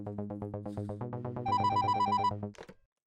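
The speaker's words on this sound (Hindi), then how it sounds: "इतनी रात को किसका फोन है?" An indoor landline telephone rings late at night, a repeating electronic ringtone with rapid pulsing tones that shifts to a higher, brighter melody before cutting off abruptly; clear and close, with no talk over it.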